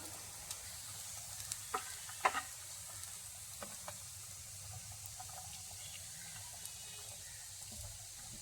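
Chopped jackfruit core sautéing in a pan for a Kerala dish: a steady low sizzle runs throughout, with scattered spoon clicks and scrapes from stirring, close and fairly quiet.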